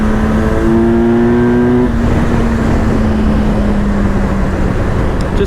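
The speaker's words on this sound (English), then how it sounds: "Really let this engine sing." A 2025 Kawasaki Versys 1100S touring motorcycle's engine revs hard up close, a loud, sustained drone that climbs in pitch and then holds steady, with wind rush behind it.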